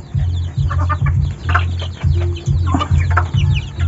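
A rooster of a bred fighting line with a comb split at the tip gives repeated low clucking calls in short bursts, close and loud, with no talk over it.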